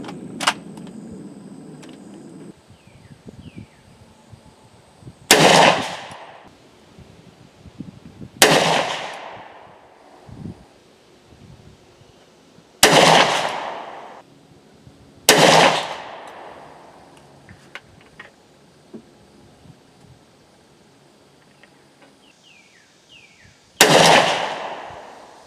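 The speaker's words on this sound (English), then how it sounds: "we're going to use a carbine, and we're going to be shooting 5 rounds at 50 yards." Five sharp gunshots from a 10mm Auto carbine firing 200 grain bullets, loud and close, spaced a few seconds apart with an irregular rhythm, each followed by a short echoing decay over a quiet outdoor background.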